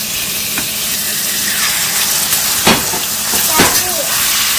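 Lamb leg meat stir-frying in a hot pan with Sichuan pepper and dried hawthorn, a loud continuous sizzle up close with occasional scrapes and knocks of the spatula.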